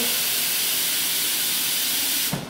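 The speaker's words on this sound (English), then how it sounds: "first we fill up the pot, and you want to fill it like halfway" A pot being filled halfway with water from a tap, a steady hissing rush that cuts off abruptly near the end.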